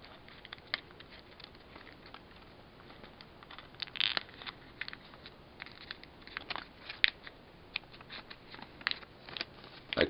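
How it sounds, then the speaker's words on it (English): Paper being creased and folded into an origami squirrel, giving soft crinkles and light crackling taps scattered through the stretch, close and quiet with no talking. "Then I valley fold this point here inside."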